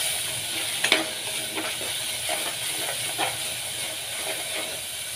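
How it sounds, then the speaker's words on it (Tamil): Tomatoes sauté in a pan, giving a continuous hissing sizzle with occasional soft stirring knocks. The sound stays close and steady throughout. "தக்காளி வதங்கிடுச்சு"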